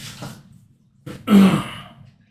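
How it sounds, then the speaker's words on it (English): A man's single throat clearing, close and fairly loud, a short rough burst after a brief quieter breathy sound, then silence. "He's going to clear his throat"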